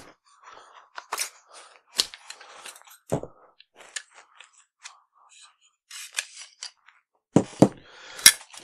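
A drift punch presses a detent to free the handguards of a Wolf A1 rifle upper, making a scattered series of sharp, close metallic clicks and snaps separated by quiet gaps, with a cluster of louder snaps at the end.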